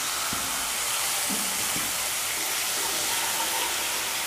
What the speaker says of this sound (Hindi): अभी इसमें डालेंगे थोड़ा सा जीरा, जीरा को थोड़ा चटकने देंगे।